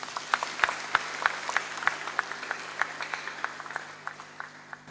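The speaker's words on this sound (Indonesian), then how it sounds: "Tepuk tangan buat Tuhan." A church congregation at an ecumenical Christmas service claps for God, scattered individual claps in a loose, uneven rhythm, fairly faint and roomy, thinning out toward the end.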